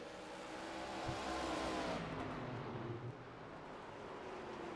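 Race cars compete on the oval at Irwindale with a loud, steady engine roar. The pitch sweeps as the cars pass, then eases slightly toward the end.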